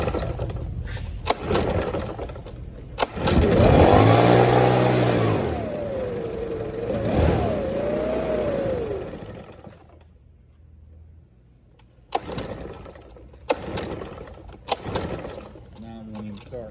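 Makita RedMax EB7660TH backpack blower engine being started on choke, sputtering up to a loud revving roar for several seconds, then dropping off before brief bursts of running resume; no talk over it.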